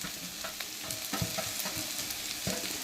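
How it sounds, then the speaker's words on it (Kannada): Cooked rice being stir-fried in a pan for fried rice, a dense close sizzle with repeated scraping and stirring strokes throughout. "ಈಗ ನೋಡಿ, ನಾನು ಕುಕ್ಕುಡ್ ರೈಸ್ ಹಾಕ್ತಾಯಿದ್ದೀನಿ."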